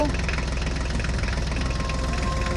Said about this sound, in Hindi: चलो गोकू, जल्दी से HMT ट्रैक्टर पर बैठ जाओ।